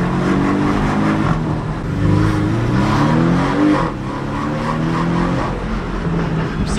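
A new Porsche sports car accelerating hard, its engine note climbing through repeated rising sweeps as it pulls through the gears, loud and close, with brief dips between shifts and no talking.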